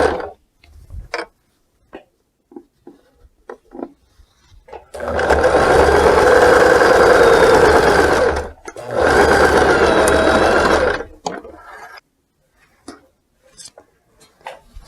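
A sewing machine stitches apron fabric for a spring dress-style apron in two loud, steady bursts of rapid mechanical whirring separated by a short pause, with scattered light clicks and handling noises before and after.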